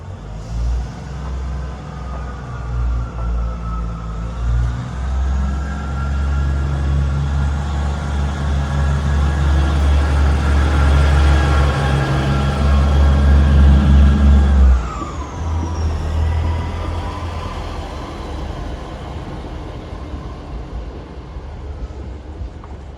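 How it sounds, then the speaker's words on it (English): A Great Western Railway diesel train pulls out of a station, its engine note building into a loud rising drone before dropping away, then a quieter rumble as it moves off, with no voices. "Departing out now is the 1805 Great Western Railway service from Avonmouth to Weston-super-Mare"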